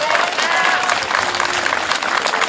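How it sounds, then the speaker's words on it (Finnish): Ringing applause from an outdoor crowd at a summer opening event, many hands clapping loudly and steadily, with a few faint voices mixed in. "annetaan vielä raikuvat aplodit Innalle"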